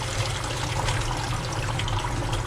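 Water runs steadily while a blue-lavender bullseye tie-dye T-shirt is rinsed out, giving a continuous, even splashing flow with no pauses and no voices.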